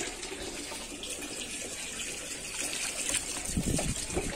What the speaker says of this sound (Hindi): चलो फिर मैं इतना फटाफट पानी डाल देते